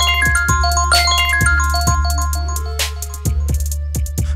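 A mobile phone ringtone plays a bright, repeating melodic tune with a steady rhythm and sharp chiming notes, loud and close, with no voices.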